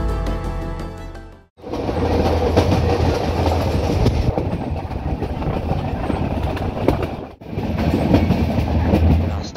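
A passenger train rolls along the rails after leaving Bilkha station, a loud continuous rumble with rhythmic clickety-clack of the wheels, broken by two brief drops before the clatter resumes.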